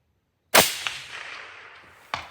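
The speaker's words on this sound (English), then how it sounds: "400 yards. We'll shoot target number 1, I guess." A single rifle shot fired at a target 400 yards away cracks loud and close, then rings out in a long fading tail, with a faint distant impact report arriving about a second and a half later.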